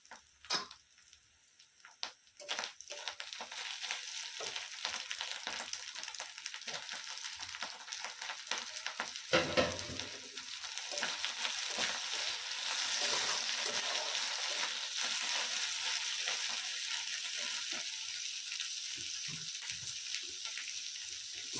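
Tomato drops into a pan of frying ginger and cumin, a faint sizzle that swells into steady, loud hissing with scattered crackles and spatula scrapes, no talking.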